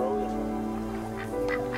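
Duck sounds from the game That Dragon, Cancer under a continuous, dense game soundscape, with quacks rising faintly above a steady layered drone.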